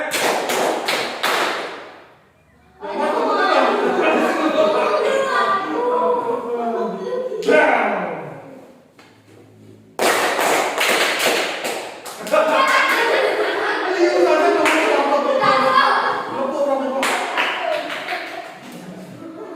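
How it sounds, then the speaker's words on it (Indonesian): An elementary English class claps in unison as a concentration drill, in repeated rounds of sharp group claps separated by brief pauses, with a teacher's voice and children's chatter between the rounds. "Four clap"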